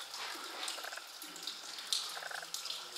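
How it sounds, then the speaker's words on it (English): Water runs and trickles steadily inside the old brick Waterloo and Victoria railway tunnels in Liverpool, a hissing, splashing wash with a few sharper drips, echoing softly with no voices. "Oh, water all down the end."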